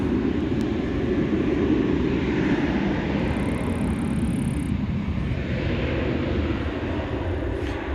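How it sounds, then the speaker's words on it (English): An Airbus A321 jet airliner takes off at night from Dallas Fort Worth airport, a broad continuous engine roar that holds steady and strong across the whole stretch. "American 1036 and Airbus A321 is off to Kansas City."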